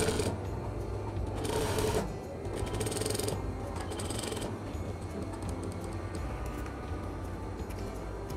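A sewing machine stitches the shoulder seams of a Muslimah dress with a steady, close mechanical whir that runs throughout, swelling briefly in short louder bursts.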